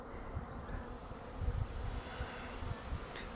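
Honeybees busy at a hive in an apiary, a steady soft buzzing hum close by with a few louder passes of individual bees, no voices.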